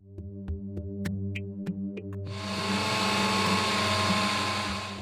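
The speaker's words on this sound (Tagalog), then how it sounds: "Ang pagkain ni Josel, kinakailangang i-blender" A blender whirs into a loud, steady roar after a few quiet clicks and taps, grinding food for a paralyzed man's tube feeding, continuous and close with no voices.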